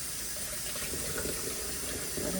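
Raw shrimp rinsed under a running kitchen tap, a steady close hiss and splash of water into a sink that continues unbroken throughout.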